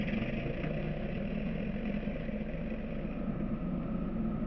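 Aircraft engine running steadily in the Aces High flight game, a continuous low droning rumble at moderate level with no other sounds over it.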